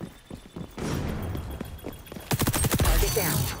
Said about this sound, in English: I should just hip fire all my shots.